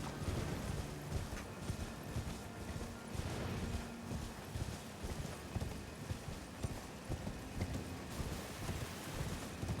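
Horse hooves clip-clop steadily in a video game, faint and continuous under a soft rain-like wash of ambient noise, with no voices.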